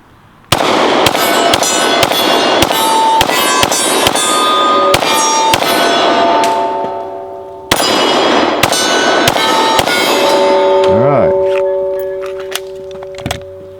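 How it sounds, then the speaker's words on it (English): A 10mm pistol firing standard ammo lets off two long, rapid strings of loud, sharp shots, each crack ringing out, with a pause between the strings. "All right, we've got 10 millimeter standard ammo."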